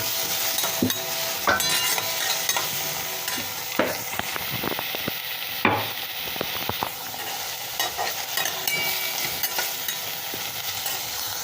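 Bamboo shoots frying in a pan until reddish, a steady sizzle broken by frequent spoon scrapes and metallic clinks against the pan, close and fairly loud without voices.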